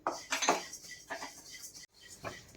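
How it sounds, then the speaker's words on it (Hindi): Sesame seeds dry roast in a hot kadhai with no ghee, making quick scraping and clinking bursts as a spoon stirs them against the metal pan, close and irregular, with a short pause near the end. "कढ़ाई गर्म हो गया है, इसमें हम तिल को डालते हैं"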